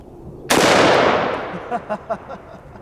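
A single loud, close gunshot from a .500 S&W Magnum snub-nose revolver cracks out and rings off, followed by a few faint knocks as the blast fades.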